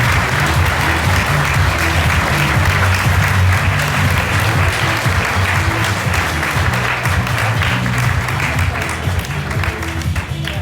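Sustained audience applause at a science fair national final awards ceremony, dense steady clapping from a large crowd filling the whole stretch at even loudness.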